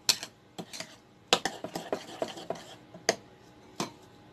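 A spoon works through a turkey seasoning mixture with salt in a bowl, producing irregular close scraping and clinking strokes, some sharp and louder, others soft, spaced unevenly over a few seconds with no talking.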